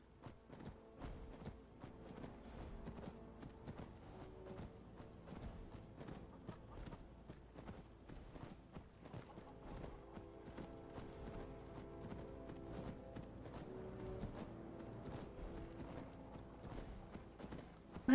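Hooves clop steadily as a horse gallops in the game Skyrim, played with 1800+ mods, giving a quick rhythmic drumming that stays quiet and continuous over a low background music bed.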